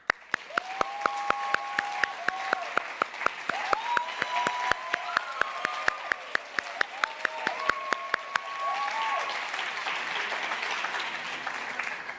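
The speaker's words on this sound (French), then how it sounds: "Maintenant, le lauréat, applaudissons." Audience at an intercultural recognition gala applauding a laureate: dense, steady clapping for about eight seconds, punctuated by sharp, regular pops and with faint voices underneath, before the applause thins into a softer wash of crowd noise.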